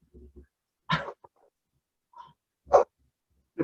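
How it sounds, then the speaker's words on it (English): A dog in a room during a trading session gives a few scattered short yaps, sniffs or snorts, moderately close and separated by quiet gaps. "We have dogs in here too."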